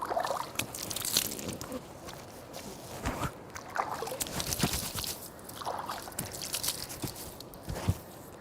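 Water splashes in cupped hands as the whole face is washed three times during wudu before prayer, giving close, irregular wet slaps and sloshes alongside faint rustling.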